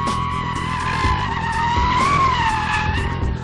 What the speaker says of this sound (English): Where we burn some serious rubber, see a lot of sideways action